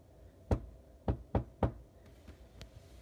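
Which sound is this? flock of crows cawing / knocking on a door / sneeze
knocking on a door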